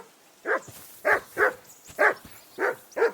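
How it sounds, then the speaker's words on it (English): Dog barking in Kingdom Come Deliverance 2, six loud, close barks spaced about half a second apart, standing alone with no talk. "Jesus, Henry, that barking's driving me nuts."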